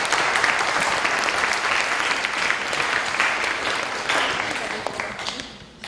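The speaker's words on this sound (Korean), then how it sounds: "멀리서 와주신 오세천 우리 상무님께 환영의 박수 부탁드리겠습니다" A packed university lecture audience bursts into sustained, dense applause to welcome a visiting LG Group HR and PR executive, a loud, even wash of many hands that holds steady before thinning slightly at the end.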